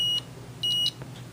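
A multimeter's continuity tester beeps as its probes touch wires during repair work on a General Electric C-403A radio, giving two short, clear electronic tones with a brief pause between them and a fainter blip near the end.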